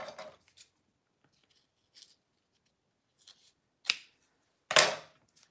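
Scissors cut material in half for a sling in a few sparse, crisp snips spaced apart, close up against near silence, with the last cut longest and loudest.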